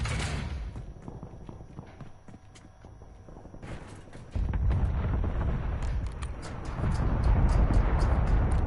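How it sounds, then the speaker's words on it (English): Napalm strike explosions in a PlayStation 4 shooter game: after a quieter stretch a sudden heavy blast erupts into a rumbling, crackling fire roar that swells louder toward the end, with sharp clicks scattered over it. "Napalm strike standing by."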